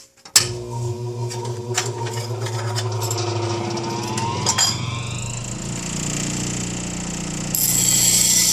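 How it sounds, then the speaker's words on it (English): A sharpening machine runs with a freshly grit-charged plate, giving a steady mechanical grinding hum with scraping and clattering transients, close and continuous, rising slightly brighter toward the end. "So we're going to start the machine and continue to sharpen."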